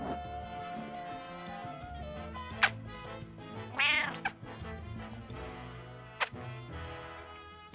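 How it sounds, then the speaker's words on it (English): A cat meows close to a microphone, several clear, loud calls, some drawn out like a caterwaul, over steady indoor background sound. "Meow."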